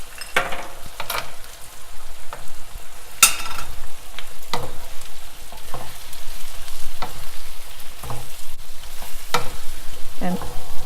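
About five tomatoes and ten cashew nuts cook in a hot pan for chicken tikka masala, a steady close sizzle broken by occasional clinks and scrapes of stirring, with no talk.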